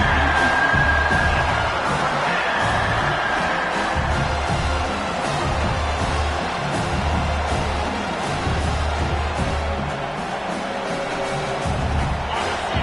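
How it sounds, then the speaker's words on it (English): A loud, continuous stadium crowd in a college football video game roars and cheers throughout, a dense wash of voices swelling and holding steady. "here comes the noise. This crowd is trying to inspire this defense"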